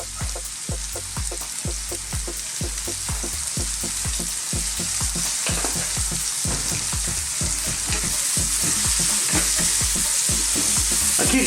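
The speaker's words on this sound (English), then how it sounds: "keep stirring this because we don't want them really to burn" Steady loud sizzling of mackerel frying in a pan for a Jamaican fried fish dish, with a rapid rhythmic scraping of stirring running through it, close and continuous with no voice.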